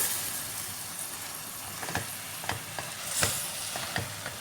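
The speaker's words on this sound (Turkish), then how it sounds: "kıymayı da şimdi karıştırıyorum" Minced meat for menemen is stirred in a sizzling pan, with a steady frying hiss and a few scraping spoon strokes, close up and with no talk.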